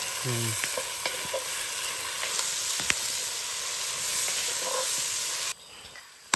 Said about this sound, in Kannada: ಎಸ್ ನಮ್ಮ ನೀರುಳ್ಳಿ ಫ್ರೈ ಆಗುತ್ತಂದ್ರೆ